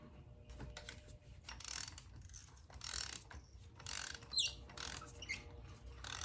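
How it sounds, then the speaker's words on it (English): Ratchet with a 14mm socket and a 6-inch extension loosening a spark plug on a 2018 Toyota Yaris iA 1.5L engine, giving repeated quick clicking bursts at close range. "we are going to remove this first spark plug"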